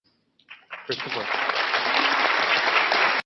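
Audience applause at a live debate about whether there is an afterlife swells quickly from a few scattered claps into dense, sustained clapping from a large crowd that stays loud and even to the end.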